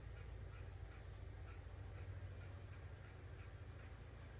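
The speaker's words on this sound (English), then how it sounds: "The birds are being weird." Faint outdoor birds, with duck-like quacks and crow-like caws, call repeatedly over a steady low rumble of background noise, distant and quiet, with no one speaking.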